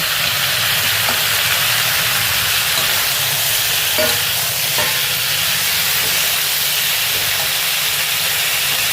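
Malabar cucumber and onion sizzling in a hot pan, a loud, steady frying hiss throughout with a few faint clinks.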